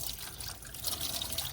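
Water poured from a container into a car's air-conditioning drain area, a steady close trickle with hissy splashing running throughout, no talking.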